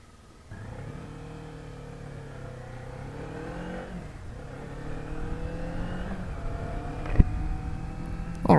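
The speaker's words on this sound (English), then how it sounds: "Alright, off we go on the Z400, guys." A 2019 Kawasaki Z400 motorcycle pulls away from a dealership and accelerates, its engine note climbing steadily through the gears, close and clear with a sharp knock near the end.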